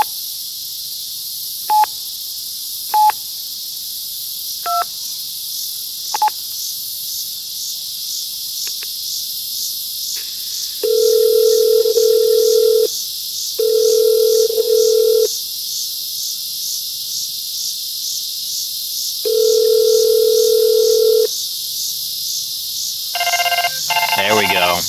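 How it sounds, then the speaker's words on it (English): A test call is dialed to an Inmarsat IsatPhone 2 satellite phone: a few short tonal beeps, then repeated loud ringback tone bursts at regular intervals, clear and close with no talk. "try placing a test call to the Inmarsat phone"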